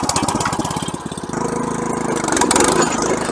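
A belt-driven Alkylate MH770 tiller with a horizontal-crank engine fires up and settles into a loud, close, rhythmic idle, its chugging pulses steadying after the start.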